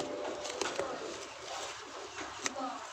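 A pet pigeon that flew home after being sold coos softly nearby in low repeated murmurs, faint against background noise, with a few sharp clicks and no talking.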